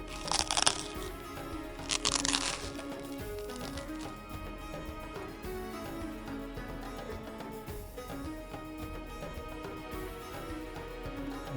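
A chicken kachori, a flaky layered fried pastry, is broken open by hand with two sharp crunchy cracks in the first few seconds, followed by quieter crumbling and rustling with no talking.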